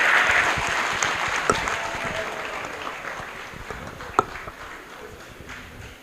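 Audience applause in a hall as the microphone is handed over at a company gathering, a steady wash of clapping that slowly fades, with a couple of sharp knocks standing out.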